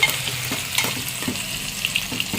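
Chopped tomatoes sauté in a hot pan for masala Maggi, a loud continuous sizzle broken by repeated scraping and stirring strokes, with no voices.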